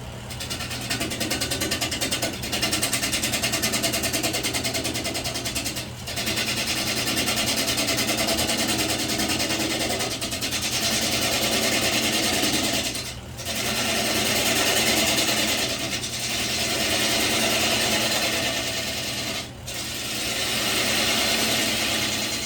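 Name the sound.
wood lathe turning a cedar bowl with a half-inch gouge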